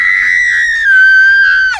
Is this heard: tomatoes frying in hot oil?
no